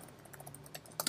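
Quiet keystrokes on a computer keyboard tap in an irregular rhythm, faint and close, building to a couple of firmer presses at the end, with no voices.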